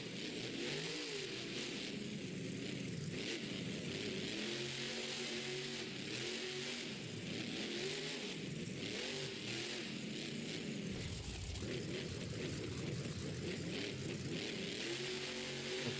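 Gravedigger monster truck engine at a Monster Jam stadium show in New Orleans, a loud, continuous rumble with rising and falling revs over crowd and arena noise.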